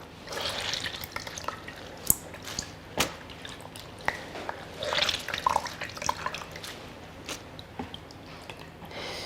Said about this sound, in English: I'm just going to drain the water out of the gelatine.